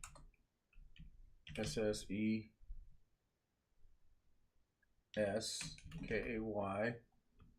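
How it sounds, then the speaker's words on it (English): Computer keyboard keys being typed in short bursts of clicking, mostly between stretches of nearby talk that dominates much of the time. "I'm going to type in M-I-S-S-E-S-K-A-Y."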